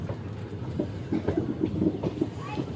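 Train rolling into Botad Junction station, a low rumble with rhythmic wheel clacks at moderate distance and a faint brief squeal near the end.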